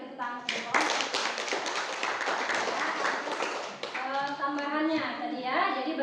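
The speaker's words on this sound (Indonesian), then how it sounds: "beri tepuk tangan untuk" A classroom of students claps for classmates who have just presented on petroleum and natural gas, brisk close clapping for about three seconds, then a teacher's voice resumes talking.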